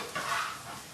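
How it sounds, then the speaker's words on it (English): Eggplant pieces for caponata sizzle and crackle in a hot frying pan, a steady close hiss that jumps up as the pieces go in and then holds, with no talking. "hear the sizzle?"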